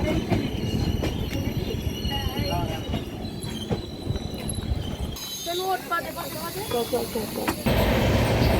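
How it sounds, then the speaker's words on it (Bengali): A train arriving at a station rumbles and hisses at close range, with squealing wheel tones rising and falling over a continuous mechanical roar. "আমাদের ট্রেন চলে এসছে"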